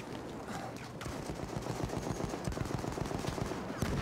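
Rapid automatic gunfire in the Battlefield 1 video game, dense overlapping bursts crackling continuously throughout, fairly loud with no pauses.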